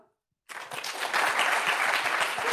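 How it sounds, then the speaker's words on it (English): A conference audience breaks into applause for a research panel, starting abruptly after a brief silence and building into sustained, dense clapping from a sizeable crowd. "And a warm applause for the panel."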